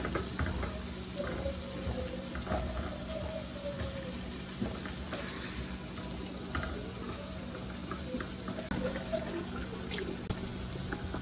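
Partly frozen meat fries in a pan with a soft, steady sizzle and occasional crackles and pops, quiet and close with no talking.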